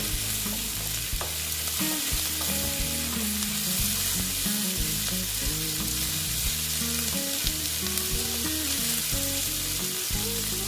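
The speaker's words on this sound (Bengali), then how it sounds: "আস্তে আস্তে এগুলোকে ভেজে নিচ্ছি" Onions and dried loitta fish fry in a pan with a dense, unbroken sizzle and frequent stirring scrapes, all over a steady tonal backdrop without any talking.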